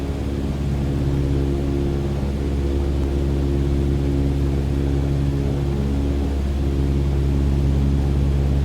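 Cessna 152 propeller engine in Microsoft Flight Simulator 2020, a steady, loud, droning hum with constant harmonic tones and broadband noise, holding level throughout with no talk over it.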